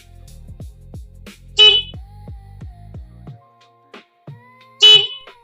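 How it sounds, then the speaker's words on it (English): Two loud, sharp 125-decibel electronic horn blasts from an electric scooter alarm, separated by a few seconds, among quieter beeps and tones, close and clear with no talking. "This horn is 125 decibels, and that is enough for other drivers on the road to hear you."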